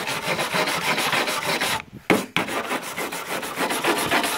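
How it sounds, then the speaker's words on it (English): A cheap metal wire brush scrubs back and forth over rusty van body metal, a continuous loud rasping scrape with a brief pause partway through, no talking. "take my metal brush from the Dollar Tree and try to scruff up this area here"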